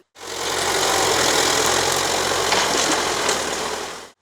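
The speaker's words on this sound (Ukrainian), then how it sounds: "На тракторі зі спеціальним обладнанням у лісі поблизу Полтави лісівники поновлюють мінералізовані смуги." A tractor fitted with special equipment works in a forest near Poltava, renewing mineralized firebreak strips; its engine runs as a steady, loud, knocking drone with broadband mechanical noise throughout, no speech.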